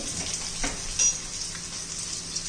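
Cumin seeds dropped into hot oil crackle and sizzle in a light, close, steady hiss with small scattered pops, fairly quiet with no talking.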